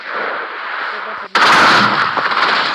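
A sudden loud blast from a lava-dodging and human-cannon map in a video game cuts through a steady bright game hum, followed by a dense crackling burst, with no talk.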